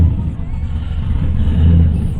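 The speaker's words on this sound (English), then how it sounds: "That car really sounds terrible." A car engine runs roughly, with a steady low rumble that fills the whole stretch. It wavers a little, with no clear break and no other sound on top.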